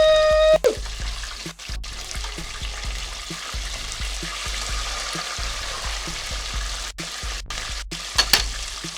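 Food sizzles steadily on a hot griddle for the whole stretch, with a few sharp spatula scrapes and clanks as pieces are flipped, close and fairly loud with no talking over it.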